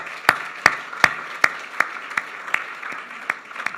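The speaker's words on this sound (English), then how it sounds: "A round of applause." A chamber of commerce gathering gives a round of applause, though only about ten sharp, evenly spaced claps stand out clearly above a faint spread of quieter clapping.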